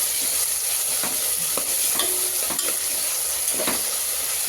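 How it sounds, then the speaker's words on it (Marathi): Mutton pulao ingredients stirred and fried in a pot, a steady loud sizzle with repeated scraping strokes of the spoon against the base, no voices. "परतत राहायचं चांगलं खाली लागू द्यायचं नाही"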